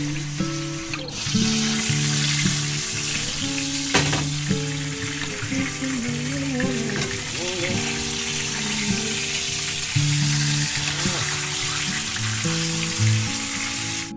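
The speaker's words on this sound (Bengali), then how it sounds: "গ্রিলটা প্যানের মধ্যে যেহেতু করা হয়" Chicken grilling in a pan gives off a steady, dense sizzle throughout, heard beneath prominent background music with a rhythmic melodic line.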